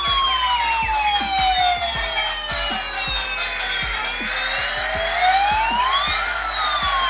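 A toy fire truck from a cartoon vehicle set wails a loud, continuous siren that sweeps slowly down and back up in pitch, heard close and alone, with sharp little clicks scattered through it.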